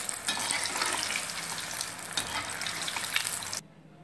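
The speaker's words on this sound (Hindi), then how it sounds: "अब हमने इसे हाई हीट हुए तेल में फ्राई करने के लिए छोड़ दिया है" Potato and beet cheese balls deep-frying in hot oil, giving a steady, dense sizzle and bubbling close up that cuts off abruptly near the end.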